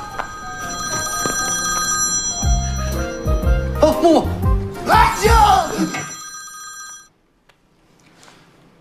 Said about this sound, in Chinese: 谁电话响啊？ 好像是我的。